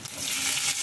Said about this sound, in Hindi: कांदे को हल्का फ्राई होने देना